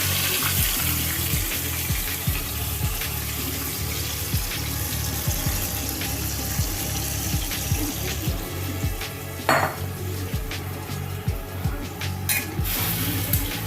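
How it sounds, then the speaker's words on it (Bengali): Marinated chicken pieces go into hot oil in a pan for methi chicken, giving a steady, close, watery sizzle with scattered clicks and light clatter of utensils throughout, no voices. "আমি এবার ম্যারিনেট করা চিকেনটা তেলের মধ্যে দিয়ে"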